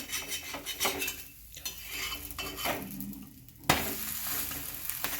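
Thalipeeth flatbread sizzling in a pan on medium heat after being flipped, a steady close frying hiss with scraping and clinking of a spatula against the pan, no talking.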